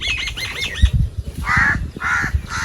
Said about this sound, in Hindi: ये कौवा है, काला कौवा।